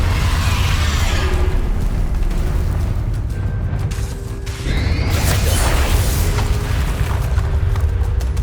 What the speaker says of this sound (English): Bombarder. Confringo.